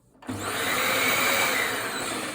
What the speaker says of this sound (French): l'aspirateur, le moteur, il fonctionne